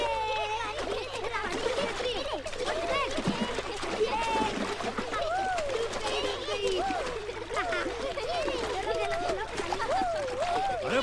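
Children bathe in water and splash about, with lively splatters mixed with excited children's voices and chatter that run almost continuously.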